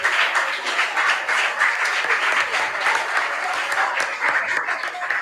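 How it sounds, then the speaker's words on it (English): Steady, sustained applause from a school audience at a quiz competition between international schools, a dense even wash of clapping that holds throughout without pause. "A round of applause for them, please."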